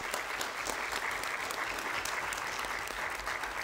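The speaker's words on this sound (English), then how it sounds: "I think they need a round of applause for the work that they're doing" A crowd at a 2020 Census program management review gives a round of applause for census partners: dense, steady clapping that holds at an even level for the full stretch, with no voices over it.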